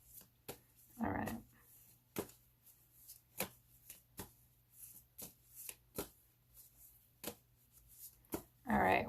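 Tarot cards are shuffled in sharp, crisp bursts with scattered taps and riffles between them, close and quiet, in an otherwise still room.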